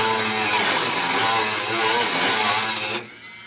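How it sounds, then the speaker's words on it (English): A Dremel rotary tool smooths the edges of vent cutouts in the hood of a supercharged NB1 Miata with a loud, continuous high-pitched grinding whine that shifts in pitch and then stops abruptly. "we're just gonna Dremel it and paint correction, the little corners"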